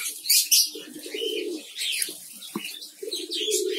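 Violet lovebirds in a breeding colony with nest boxes give repeated chirps and churring calls, some loud and close, others softer, with a brief flutter, and no talk.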